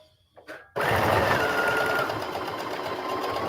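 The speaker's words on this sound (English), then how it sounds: "Do a back stitch at the beginning and the end." After a brief quiet moment, a sewing machine stitching scraps of old blue jeans starts abruptly and runs continuously, a close, steady mechanical whir with rapid needle chatter.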